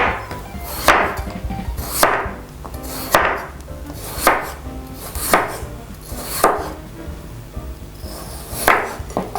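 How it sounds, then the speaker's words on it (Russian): A knife thinly slices potatoes on a cutting board, about eight crisp knocks spaced roughly a second apart, close and distinct over a quiet background. "Теперь нарезаем картофель."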